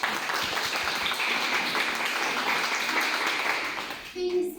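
Teenagers at a workshop give steady, sustained applause for about four seconds before it breaks off, with a brief voice at the end.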